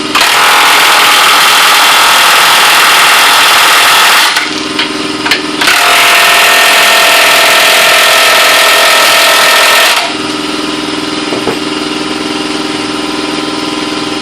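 Cordless impact wrench tightening lug nuts, a DeWalt DCF899 set against an Ingersoll Rand 2135QTI Max: loud, close, sustained hammering whir in two bursts of about four seconds each, followed by a steady lower hum.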